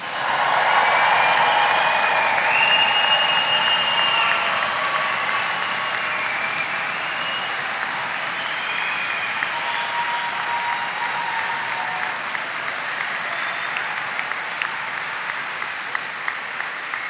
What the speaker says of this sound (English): we're going to have a real roof-raising cheer and stomp